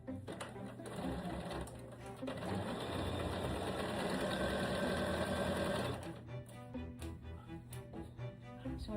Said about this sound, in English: I'm going to stitch all around the neckline of the front and the back and along both of the armholes